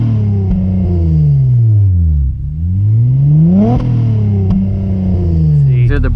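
Acura TL SH-AWD fitted with Borla Pro XS mufflers, stock mufflers cut out, revving up from a warm idle: a loud, close exhaust note climbs, drops back, then swells again in a second rev, with no talk.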